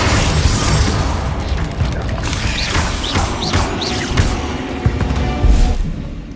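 Confringo fire spells exploding in Hogwarts Legacy combat, a loud, dense run of booms and crashing thuds with whooshes between them, up close, with voiced spell shouts mixed in.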